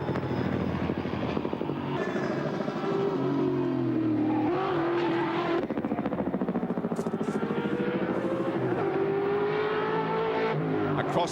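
At Bathurst, a big V8 touring car engine revs hard, loud and continuous, its pitch rising and falling through gear changes and over the mountain, with an occasional voice faintly underneath.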